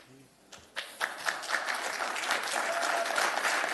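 Applause from a crowd at an assembly meeting after an ordinance passes builds quickly into steady, dense clapping that fills the room and holds at a fairly loud level.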